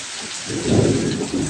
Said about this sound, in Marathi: अजून गडगडता बघा